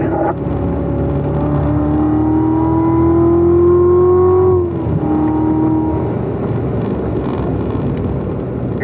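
Race car engine held at a steady throttle on a circuit approaching a corner apex, a loud, close, continuous drone with rising pitch that briefly dips near the middle before settling again, no talk over it.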